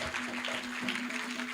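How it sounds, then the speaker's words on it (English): An audience at a symposium for a Ghana culture week claps, a short dense burst of applause that fills the room and stays steady throughout. "If there's one culture we should cultivate, it is that of clapping and clapping loudly."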